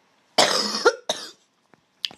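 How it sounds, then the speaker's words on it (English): Two harsh coughs from one person close to the mic in a quiet room, the second shorter, followed by a faint click and a brief breathy throat sound. "Please excuse me if I cough."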